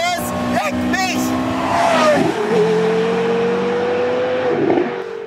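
A Porsche Carrera GT with a 5.7-litre V10 of 612 hp revs hard in second gear, its high engine note climbing and sweeping over a rushing drive, loud and close, with someone talking over it.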